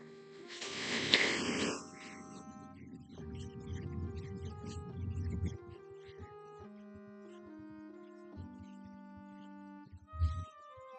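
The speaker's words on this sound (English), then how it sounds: "I'm going to come in again with my heat gun." Steady whooshing roar of a heat gun blowing hot air over embossing powder on a handmade Christmas card, a loud burst at first that settles into a softer, continuous hum with faint tapping and a few clunks.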